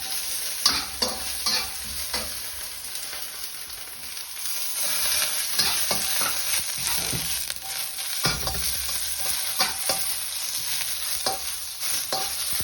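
Garlic, carrots, mushrooms, bamboo shoots and water chestnuts stir-fried in a hot pan, a continuous close sizzle broken by repeated scraping and tossing strokes, with no voices.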